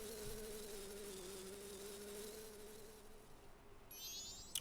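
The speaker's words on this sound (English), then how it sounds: "But first, bees!" Bees buzz in the Majora's Mask video game, a steady, even drone of insect wings that carries on unbroken and fairly quiet.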